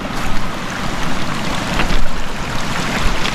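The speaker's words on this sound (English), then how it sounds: "Cross the river with me." A river flows in Portland, Jamaica, its water rushing in a steady, full broadband wash that swells slightly at times, close by and alone with no voices.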